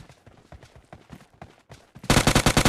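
Muffled footsteps and shuffling in PUBG Mobile Lite, then a loud, rapid burst of automatic gunfire near the end, sharp and close.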